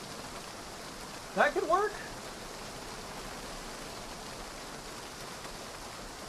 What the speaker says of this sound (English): It's torrential, dude. This is a straight up downpour.